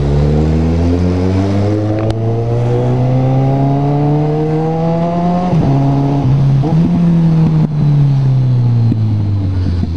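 A loud motorcycle engine drones steadily with rising pitch, revving up and shifting down a couple of times without the clutch, continuous and close throughout.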